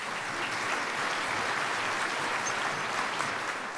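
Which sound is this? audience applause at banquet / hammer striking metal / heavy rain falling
audience applause at banquet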